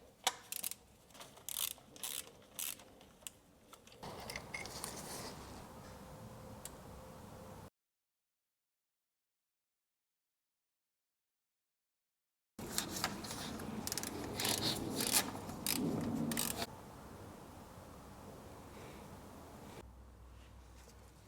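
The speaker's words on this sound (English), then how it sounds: "Now we're gonna start unbolting the brackets for the piping." Ratchet clicking in quick bursts while unbolting piping brackets on a BMW S55 engine in an F80 M3/M4, close and fairly quiet, with a silent gap midway and soft handling noises between the bursts.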